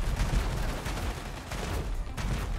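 Rapid gunfire from a Halo shotgun on a mech in the robot combat game War Robots Frontiers, a dense run of shots and impacts with steady battle noise underneath.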